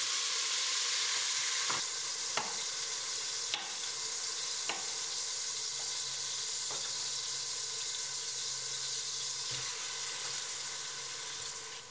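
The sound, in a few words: tomatoes added to browned garlic sizzling in the pan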